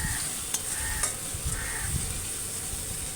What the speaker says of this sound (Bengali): কড়াইতে তেজপাতা দিয়ে দিয়েছিলাম, দিয়ে পেঁয়াজ ভেজে নিচ্ছি